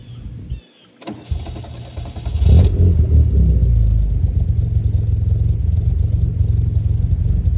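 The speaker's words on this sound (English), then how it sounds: "So here we go with the startup. We'll have a listen to the engine, the exhaust" A 1980 Fiat 2000 Spider engine with an aftermarket exhaust cranks, catches and roars to life, then settles into a deep, steady rumbling idle with a throaty exhaust, close up.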